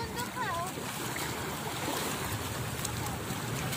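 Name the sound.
sea waves at the beach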